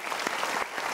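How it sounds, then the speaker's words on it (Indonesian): A seminar audience claps in a dense, steady burst of applause, close and continuous for a moment, with no voices over it. "Kita berikan tepuk tangan."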